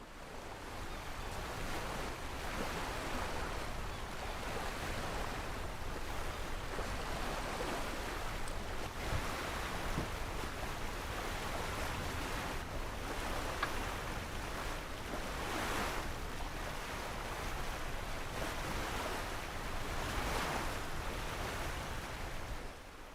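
Ocean waves and wind surround a sailboat in the sailing simulator Sailaway II, a continuous, even wash of surf and gusting air that stays steady throughout.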